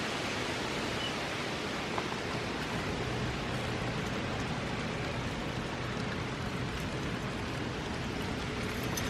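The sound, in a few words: rain starting to fall outdoors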